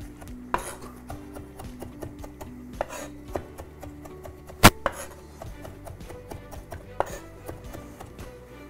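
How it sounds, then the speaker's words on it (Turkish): A knife chops cucumber into smaller pieces on a cutting board while cooking tas kebab, with irregular sharp taps, some spaced and some in quick runs, and one loud strike near the middle. "Biraz daha küçültüp içine ilave edeceğim."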